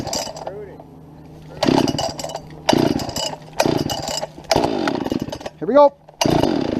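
A P60 chainsaw cuts into a tree, its engine revving loud and close in repeated bursts with pauses between, while someone talks over it.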